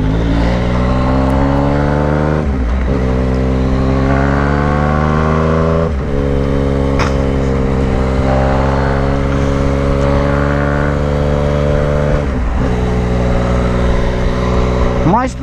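A Yamaha MT-09 Tracer GT motorcycle fitted with an Atalla 304 stainless-steel exhaust revs loudly and up close. Several sharp rises in pitch break a steady droning idle.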